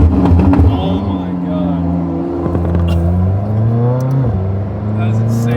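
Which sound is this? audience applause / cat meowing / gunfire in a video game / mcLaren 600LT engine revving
mcLaren 600LT engine revving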